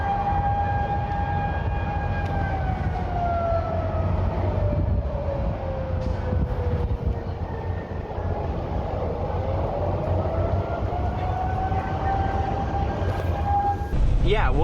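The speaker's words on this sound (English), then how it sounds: "like a tornado siren going off this morning" A tornado siren wails outdoors, its long tone slowly falling and then rising again in a sweeping cycle, loud and steady over a low background rumble.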